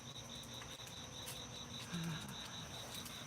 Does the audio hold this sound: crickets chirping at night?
yes